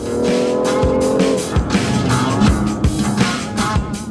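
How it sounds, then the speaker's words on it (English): A BMW M5 or M2 engine drones loudly while tires squeal continuously through a turn on a track, with rhythmic thumps beneath the squeal. "It's just slowly lighting the tires all the way through there."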